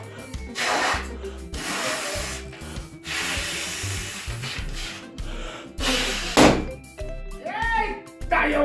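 A balloon pumped up with pressure until it gives way, bursting in one sharp, loud pop partway through, preceded by rubbing and handling noises close by.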